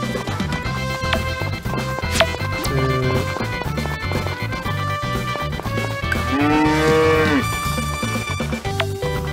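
A cow moos repeatedly in the farming game Story of Seasons: Friends of Mineral Town, its electronic lowing rising and falling over steady, busy background music with no talk.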